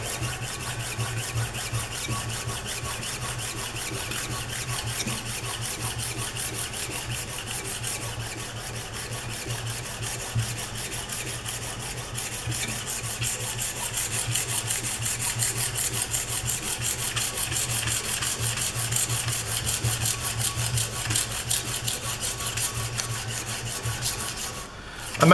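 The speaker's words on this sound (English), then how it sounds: "Don't just keep sanding and chatting" Steady hand sanding or filing in an engineering workshop on a drill gauge workpiece, a continuous rhythmic rasping scrape of back-and-forth strokes that goes on for about 25 seconds, close by and with no talking.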